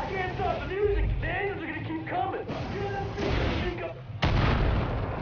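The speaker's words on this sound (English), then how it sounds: "it's got fireworks" Fireworks go off in the video game Far Cry 5 as a few loud booming bursts, the sharpest near the end, with players talking over them.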